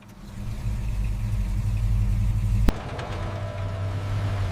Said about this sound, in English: The straight six coughed once, then awakened with smooth, confident rhythm.